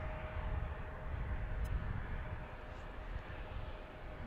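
Delta Connection Embraer E-175 regional jet landing at Reagan National, a moderate, steady engine roar and rumble that swells slightly then eases, heard alone without talk.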